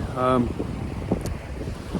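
Wind blows hard across Minn Beach on the UK coast, a steady close roar buffeting the microphone, with a brief voice near the start.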